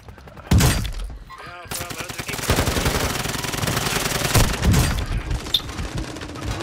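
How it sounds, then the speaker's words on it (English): Rapid bursts of automatic gunfire from a Call of Duty match crackle loudly through the whole stretch, with a brief gap early on and heavy, sustained firing after, with game effects and a voice briefly under the shots. "Who the fuck's shooting, bro?"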